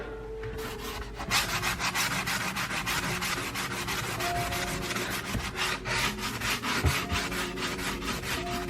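A surface is scrubbed hard with Koh cleaner, producing close, loud, rhythmic rasping strokes that repeat steadily back and forth without pause, and no one speaks.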